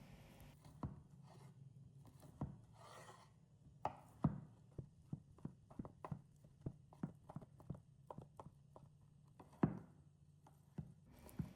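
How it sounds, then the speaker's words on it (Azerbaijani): Cooked chicken breast being diced into cubes on a board, a series of crisp, close knife chops in an uneven rhythm, some quick runs and a few heavier strikes, with no talking. "Salat üçün öncəliklə toyuğun bişmiş sinə ətini nazildib kub şəklində doğrayıram"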